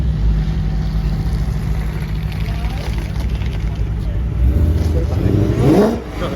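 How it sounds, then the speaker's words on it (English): A tuned car's engine revs hard in repeated bursts while the driver tries to break the wheels loose, the roar steady and loud with a rising surge near the end; people talk over it. "Trying to get some wheel spin."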